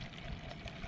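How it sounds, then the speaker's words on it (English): Dam water poured through a filter outdoors, giving a soft continuous splashing trickle, fairly quiet and steady with no voices. "Filtering the water."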